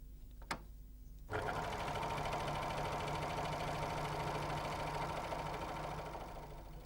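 A Janome 6234XL overlocker sews fabric, starting after a faint click and then running steadily with a fast, even mechanical hum and rattle that carries on to the end without talk.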